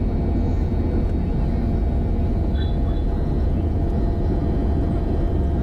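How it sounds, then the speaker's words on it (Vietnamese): A passenger jet's engines roar at full power during the takeoff roll, a loud steady broadband rumble filling the whole span with no break, heard from inside the cabin. "Lúc này thì máy bay nó tăng hết công suất thì nghe tiếng động cơ nó rít."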